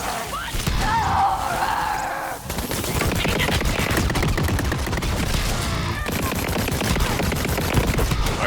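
A hard-hitting Jakobs gun firing in Borderlands 3, a loud, dense burst of rapid gunshots that roars almost continuously with a brief gap near the start, alone with no speech.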